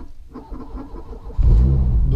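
A 1991 Renault Clio 16S engine runs at a low rumble, then swells abruptly into a louder, heavier throb partway through, heard up close in a short burst.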